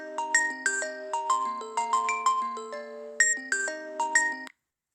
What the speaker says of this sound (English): which is actually a 913 area code, so you can hear a pretty different tone